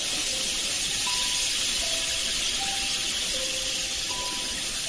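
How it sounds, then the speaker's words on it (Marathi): Steady steam hiss from a pressure cooker whistling on the stove while cooking spiced brinjal (masala wangi), with faint intermittent tonal squeals riding over the continuous rush, loud and close throughout. "कुकर लावून फक्त 2च शिट्ट्या घ्यायचं बरं का।"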